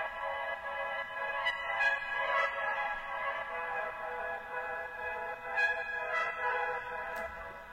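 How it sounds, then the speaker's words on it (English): A distorted, trumpet-like synth tone in a song sustains with buzzy harmonics, wavering steadily and playing alone at moderate loudness. "This sound, it's like a trumpet, but it's kind of fucked up."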